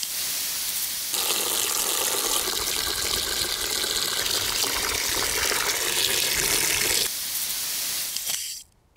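Water gushes from a tap into a bucket for hydroponic tomatoes, a loud steady rushing spray for about six seconds that softens, then stops with a faint clunk at the end.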